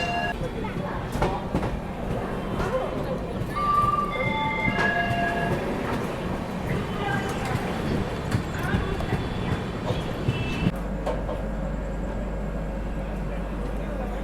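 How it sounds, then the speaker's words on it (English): A train departing Whitefield railway station in Bangalore rumbles and clatters steadily, with wheels clicking on the rails and faint chimes, while voices murmur nearby. "now we are departing from Whitefield railway station in Bangalore"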